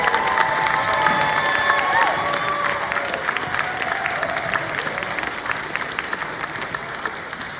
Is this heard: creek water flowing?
no